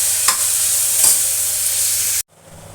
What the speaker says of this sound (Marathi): आपण याच्यात कांदा छान गुलाबी होईपर्यंत परतवायचा आहे.